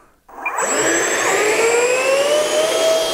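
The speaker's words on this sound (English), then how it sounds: "30 amp ESC, five blade, 64 millimeter EDF. Our airframe now has two of those combined. So let's see how this runs." Twin 64 mm five-blade electric ducted fans on an RC F-18 Hornet jet, each driven by a 30 amp ESC, spool up from silence into a loud, rising jet-like whine that holds steady and close.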